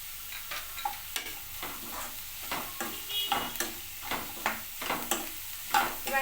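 Onions and coriander are stirred into jowar roti upma in a hot pan, with a steady rhythm of spatula scrapes over a faint sizzle, up close and with no voices.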